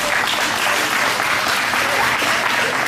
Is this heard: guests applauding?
yes